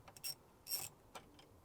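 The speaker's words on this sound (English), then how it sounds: "Next step is to take this 14mm nut off." A ratchet wrench loosening a 14mm nut on a 4th-generation Toyota 4Runner seat belt: two short bursts of clicking, then a few fainter ticks, close and quiet with no voices.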